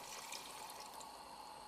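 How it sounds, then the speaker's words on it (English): Veal stock pours into a pot of Burgundy wine brought to a low bubble, a soft, steady liquid rush heard faintly and alone throughout. "Place in the veal stock."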